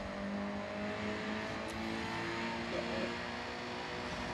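A video-game car in Forza Horizon 6 cruises through the streets of Tokyo with a steady engine drone and road noise, holding a fairly even level throughout at moderate loudness.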